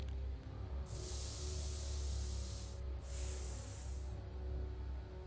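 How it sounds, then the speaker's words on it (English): A spray paint can in the Back to the Future video game sprays a wooden plank in two sustained hissing bursts, the first about two seconds long, the second shorter, over a quiet background hum. "Spray paint on the plank."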